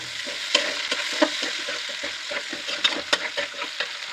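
Thick-cut onions frying in a pan for chicken pasta chow mein, a steady close sizzle broken by frequent clinks and scrapes of a stirring spoon, with no voices.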